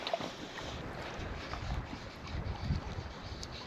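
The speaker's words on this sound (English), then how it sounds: "the wind has changed round to a northwesterly, which is not a great wind" A northwesterly wind blowing over a hill loch in the Galloway Hills, a steady breathy rush buffeting the microphone with low rumbling gusts, with no voices.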